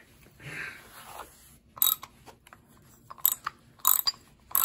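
A ratchet wrench clicks while turning on the thermostat housing of a Datsun 240Z, with short bursts of rapid close ratcheting after a brief softer stretch.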